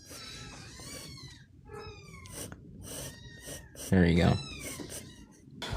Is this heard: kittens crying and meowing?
yes